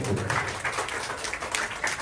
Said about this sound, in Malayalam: ആ ഒരു അർത്ഥത്തിൽ നല്ലൊരു കയ്യടി നമ്മുടെ രക്ഷിതാക്കൾ